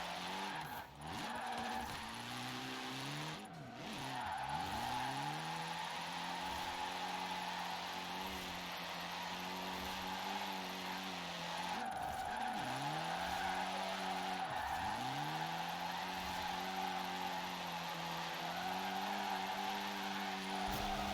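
A Triumph TR7 drifting in Forza Horizon 4 gives sustained, loud tire squeal over a steady engine drone, with pitch sweeps and dips as the car slides through repeated turns, alone and without talk.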